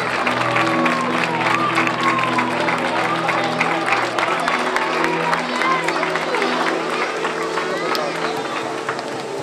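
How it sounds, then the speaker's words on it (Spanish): An audience at an August town fair gives loud sustained applause with some cheering as a speaker comes up on stage for the opening proclamation, with clapping continuous throughout and voices mixed into the crowd. "¡Un fuerte aplauso!"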